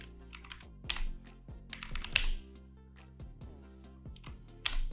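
Keys clatter on a computer keyboard as a terminal command is typed, with quick irregular bursts of close clicks and a few heavier key strikes, no talking.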